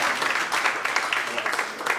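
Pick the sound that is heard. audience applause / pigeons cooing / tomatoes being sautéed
audience applause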